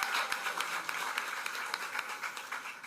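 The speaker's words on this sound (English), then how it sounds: "Give them a hand." An audience claps steadily for a student catering team at a community meeting, many hands in a dense, fairly distant patter that carries on throughout without a break.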